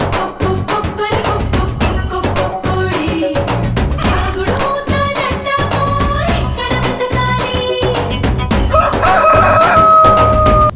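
A rooster crows loudly amid a busy mix of tonal music and percussive hits, the calls standing out in repeated rising bursts.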